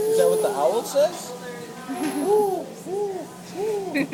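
Small child mimicking an owl with a series of short, rounded hoots in a steady repeating rhythm, close and voiced indoors at a dinner table.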